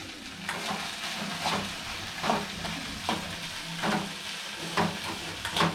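Okra for vendakkai poriyal sautés in a pan with a steady sizzle, broken by repeated scraping strokes of a stirring utensil about once a second, close and fairly loud, with no talking.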